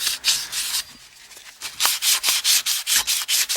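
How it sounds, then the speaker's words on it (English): Sandpaper rubs briskly over a pipe connection during an electric low-boy water heater replacement, giving a steady run of close, rhythmic abrasive strokes that quicken into regular back-and-forth passes with no voices. "You want to clean it good, make sure you get some good sandpaper."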